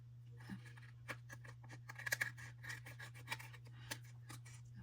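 Paper being trimmed for a handmade mini album, with short scattered cutting and rubbing sounds at a close, quiet level over a steady low hum.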